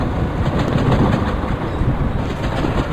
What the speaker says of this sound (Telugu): 140 km/h high speed train guys ఇది